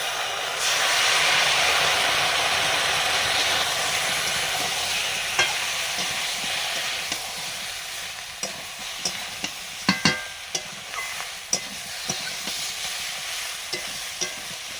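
Vegetables sautéing in a pan with turmeric, green chilli and cumin-coriander paste: a steady loud sizzle fades gradually, then sharp scrapes and clinks of stirring against the pan punctuate the second half.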